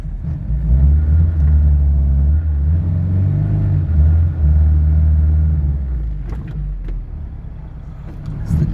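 Classic Mini's engine rumbles close and steady as the small car creeps into a garage, low-fuel running fading slightly at the end, followed by a few light clanks.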